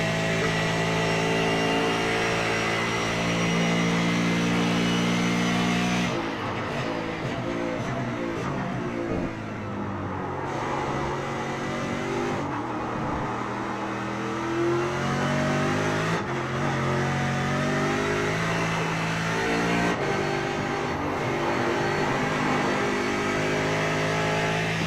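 A Fincar race car engine, heard on board during a race, roars loud and close throughout, revving hard with repeated sharp gear changes and dips as the pitch climbs again.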